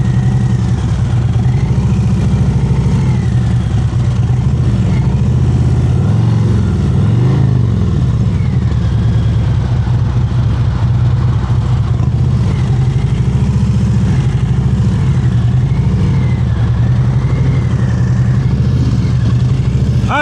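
A motorcycle engine runs steadily at low speed during slow-speed riding practice in North Carolina, a continuous mid-pitched drone that rises and dips slightly as throttle and clutch are worked, with no talking.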